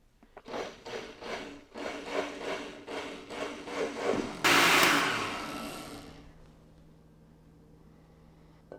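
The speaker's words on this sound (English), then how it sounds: "Just continue blending until all your squash is pureed" After a run of rhythmic scraping and rubbing, a kitchen blender pureeing butternut squash soup starts with a sudden loud whir, then winds down and fades over a couple of seconds.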